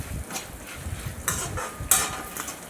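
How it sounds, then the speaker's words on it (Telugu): Food frying on a low flame in a pan for a gongura chutney, dal and upma meal, a soft steady sizzle with occasional stirring scrapes and light utensil clicks, fairly quiet and close. "లో ఫ్లేమ్లో పెట్టుకుని వేయించుకోవాలి"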